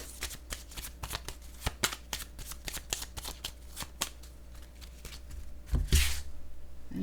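A deck of cards is shuffled for a fortune-telling reading, with rapid riffling and flicking close by and a louder burst of shuffling toward the end.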